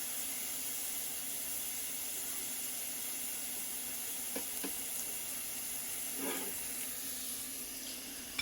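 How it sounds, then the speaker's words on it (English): Ground beef sizzles steadily in its own fat in a pan with no oil, a constant hissing crackle broken by a few brief clinks and scrapes. "I'm just frying it up real quick. There's no oil in there, it's just the fat from the beef."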